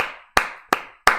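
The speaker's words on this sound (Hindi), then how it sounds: "अर्णव शेखर त्रिपाठी जी के लिए हम लोग ताली बजाएं भाई" Three sharp, evenly spaced hand claps with a short ringing decay, clapped alone in applause for a student during an online chemistry class, close and fairly loud.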